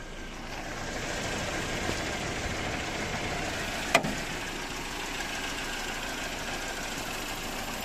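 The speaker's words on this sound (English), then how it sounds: "The engine is running right there." A Mercedes-Benz W124 engine idling after conversion from K-Jetronic to aftermarket EFI, a steady, even mid-pitched hum that holds constant throughout, with one brief sharp click partway through.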